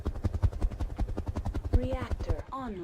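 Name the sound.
helicopters in RogueTech video game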